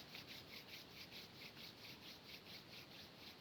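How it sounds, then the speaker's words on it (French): Hands rub together in a quiet indoor spot, a soft, steady swishing friction repeating in quick even strokes, close and faint, with no voices. "je frotte les mains"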